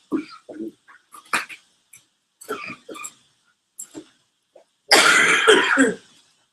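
A person with a cold coughs repeatedly, first in short separate bursts and throat clears, then in a harsher, louder fit of coughing near the end, close to the microphone.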